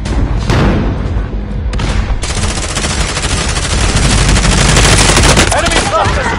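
Rapid automatic gunfire and booming blasts from a military video game battle, loud and continuous with dense bursts throughout, and a voice speaking briefly under the din.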